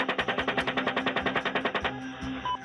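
Rapid automatic gunfire, about fifteen evenly spaced shots in a fast rhythmic burst lasting under two seconds, loud and close, then stopping.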